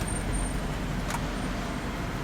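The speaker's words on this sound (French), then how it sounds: "Je laisse une voiture passer." A car rolls past on a weekday road, heard as a broad, steady rumble of engine and tyre noise that swells slightly and fades. No one speaks.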